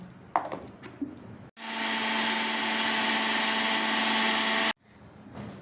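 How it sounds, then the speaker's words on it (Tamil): A kitchen mixer grinder whirs loudly and steadily for about three seconds, powdering roasted ingredients for homemade idli podi, with a few soft clinks and handling sounds before and after the run. "இப்போது நம்ம மிக்சி ஜாரில் அதை பவுட்ரு பண்ணிவிட்டு எப்படின்னு உங்களுக்கு காட்டுறேன் பாருங்கள்"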